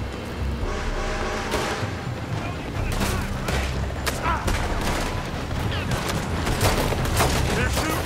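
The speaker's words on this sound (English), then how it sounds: "They're shooting from that building." Sustained volleys of gunfire from a building in Red Dead Redemption 2's Cornwall setting, with sharp, overlapping shots cracking steadily over a dense battle din and occasional voices.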